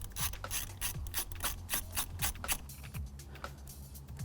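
A hand ratchet works a starter battery bolt on a VW T4 van during split-charge wiring, giving a steady run of quick close clicks in a regular back-and-forth rhythm, with no talk.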